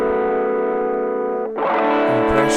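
Guitar stems in a mix play with saturation applied, a sustained chord giving way to a brighter, gritty distorted strum midway, loud and dense with no talking.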